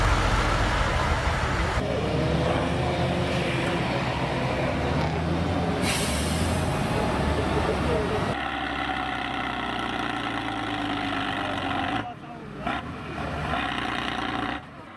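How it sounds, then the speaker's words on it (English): The engine of a KAMAZ 537G 8x8 off-road military cargo truck roars loudly and continuously in deep rumbling bursts, broken by a few abrupt cuts and changes in tone. "This is the KAMAZ 537G off-road vehicle designed to transport military equipment and other cargo on harsh terrain, including dirt, mud and snow."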